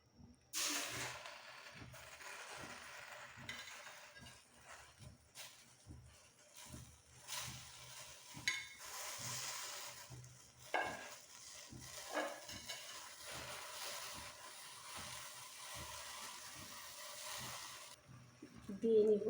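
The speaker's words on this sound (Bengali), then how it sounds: "এখন এর মধ্যে দিয়ে দেব ধুয়ে রাখা শাকগুলো।" Washed red amaranth greens go into a hot wok over a lit stove, followed by soft intermittent sizzling, rustling stirs and occasional clinks of utensils against the pan. There is a louder burst near the end.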